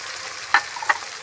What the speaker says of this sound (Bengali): দেখুন পেঁয়াজটা হালকা হালকা লাল ভাজা হয়ে এসেছে, আমি ওর মধ্যে দিয়ে দিচ্ছি বেটে রাখা পোস্ত।